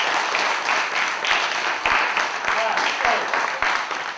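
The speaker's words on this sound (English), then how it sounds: "Give them a round of applause." Loud, steady applause from a crowd, a dense wash of clapping that carries on without a break from start to finish.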